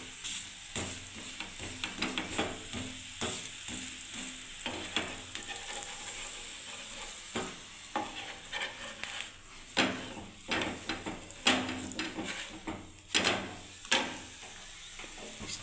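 Vegetable parathas sizzle steadily in hot oil, a continuous close crackle broken by scrapes and light clatters of a utensil against the pan, with no talk.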